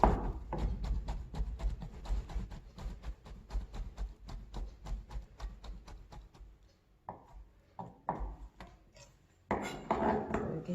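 A knife julienning food into fine strips on a cutting board for jangguk-juk, a Korean beef rice porridge, with fast, steady, evenly spaced chops for several seconds, then quieter scattered handling sounds.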